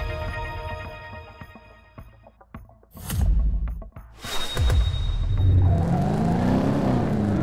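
A maxed blue Porsche 911 engine races in Top Drives, revving up with rising pitch, then dropping and surging again in loud, close accelerating pulls.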